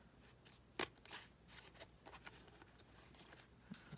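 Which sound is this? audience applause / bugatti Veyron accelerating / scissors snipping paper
scissors snipping paper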